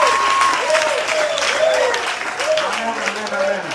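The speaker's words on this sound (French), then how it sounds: "Acclame très fort pour le Seigneur" Young churchgoers at a youth conference in Kara clapping loudly and continuously, a dense wash of applause while a voice carries on over it.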